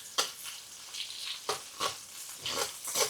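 Peppers tossed into a hot pan already cooking aubergine and garlic, giving a steady close sizzle with several sharper bursts of stirring and scraping, no voices.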